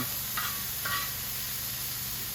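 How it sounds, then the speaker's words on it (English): Bacon sizzles steadily as it renders in a disket pan, a constant close hiss broken by two brief scraping stirs early on, with no talking. "We're just kind of rendering down this bacon"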